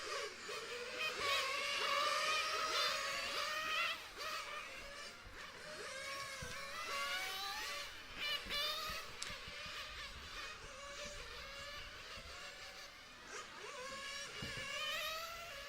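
Small RC cars run practice laps on a track before a race, their whiny electric motors rising and falling in pitch as they pass at varying distances, a steady buzzing swarm throughout.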